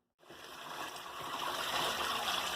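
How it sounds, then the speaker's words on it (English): Chicken stock pours through a strainer into a bowl, a steady liquid trickle and splash that starts abruptly after a moment of silence and grows slightly fuller as it continues. "So now I'm going to strain it."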